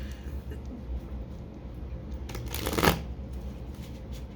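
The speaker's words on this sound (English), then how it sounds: "these cards just don't want to shuffle" A deck of tarot cards shuffled during a reading: soft rustling at first, then one quick riffle burst of flicking cards, close and fairly quiet.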